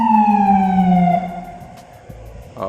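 Emergency vehicle siren passing through a neighborhood, a loud wailing tone sliding steadily downward in pitch as it moves off, fading somewhat, with a few faint knocks and a brief rise at the end.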